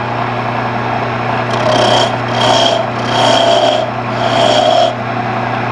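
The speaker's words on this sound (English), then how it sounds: "we're going to go back to the roughing out gouge" A roughing out gouge cuts spinning wood on a lathe, a steady motor hum underneath and four rasping cutting passes swelling and fading at close range.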